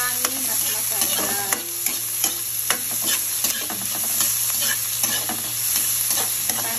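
Onions frying in a pan for litson paksiw, a steady close sizzle with regular clinking scrapes of a utensil stirring against the pan.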